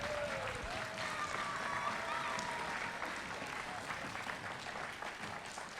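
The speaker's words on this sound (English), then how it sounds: "So huge round of applause for all the children in the school." Children in a school hall applaud steadily in a dense, sustained wash of clapping, heard at moderate distance with a few voices mixed in.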